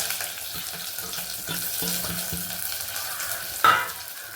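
Onion and garlic frying in a pan for fish curry give a soft, continuous sizzle along with light stirring and a brief clatter near the end.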